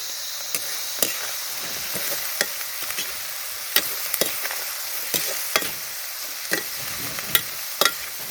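Onions sizzle steadily in a pan with salt and curry leaves as a spoon stirs them, scraping and tapping the pan at irregular intervals. The sound is close and continuous, with no talking.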